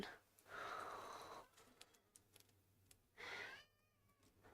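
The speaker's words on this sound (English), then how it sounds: "Oh no, my kitty's crying." A pet cat meows twice, each cry drawn out and fairly close, with a quiet pause between them.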